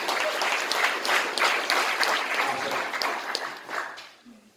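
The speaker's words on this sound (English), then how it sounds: "Big round of applause, please, sir." An audience at a police appreciation event applauds law enforcement members standing in attendance, a loud, lively burst of many hands clapping that swells and then fades out near the end.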